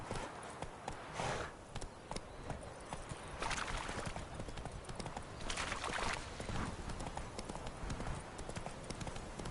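Galloping hooves of Roach, Geralt's horse in The Witcher 3, a steady rapid clip-clop rhythm carrying on throughout at moderate level with game ambience, and a faint voice now and then.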